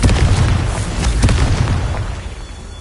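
A Confringo spell explodes in the game Hogwarts Legacy, a loud, booming blast with a heavy low-end rumble that fades over a few seconds.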